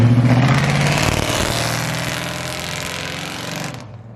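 Cammed, LS-swapped 1968 GMC truck engine, loud and close, idling with a lumpy, choppy rhythm and a brief rev at the start, a steady heavy rumble running throughout.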